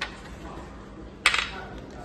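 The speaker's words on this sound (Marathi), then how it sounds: "इकडे आपण 10 ते 12 आपण काजू घालतोय।" About ten to twelve cashews dropping into a metal pot or grinder jar while making green paneer gravy, one brief clattering cluster of light clinks at moderate loudness in a quiet kitchen.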